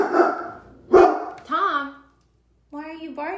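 A dog barks indoors, a few sharp barks and whiny yips spaced apart with a short silent gap before the last ones, all close and loud.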